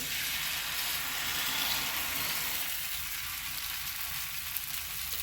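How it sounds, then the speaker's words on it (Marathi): Fasting thalipeeth frying on a hot griddle greased with ghee, a continuous, even hiss of sizzling that stays steady and moderately quiet, with no voices. "तवा छान तापलेला आहे त्याला मी थोडंसं तूप लावून घेतलेलं आहे आता आपण त्यावर थालीपीठ घालून घेणार आहोत"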